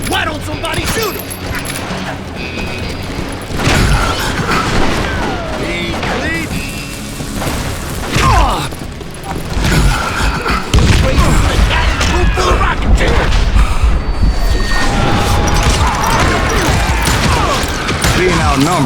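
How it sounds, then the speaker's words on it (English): Gunfire in the Western shooter game Call of Juarez Gunslinger, continuous booms and mechanical clatter of a firefight mixed with in-game voices and music, dense and loud from start to finish. "Who's shooting at us? We're under fire!"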